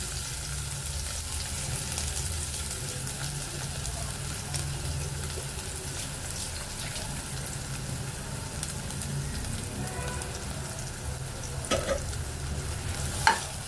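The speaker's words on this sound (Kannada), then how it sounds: "ಇವಾಗ ಎಣ್ಣೆ ಕಾದಿದೆ. ಇದಕ್ಕೆ ಬೆಳ್ಳುಳ್ಳಿ ಹಾಕ್ತಾಯಿದ್ದೀನಿ." Crushed garlic, five or six cloves, sizzling in hot oil in a pan, a steady close frying crackle throughout with occasional stirring clinks and no talk.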